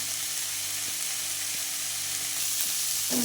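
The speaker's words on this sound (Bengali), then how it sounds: "শাকটা একদম ভালো করে ভাজা হয়ে গেছে দেখো" Greens fry in a pan with a continuous soft sizzle and a few faint clicks of stirring, steady and moderately quiet, without talk.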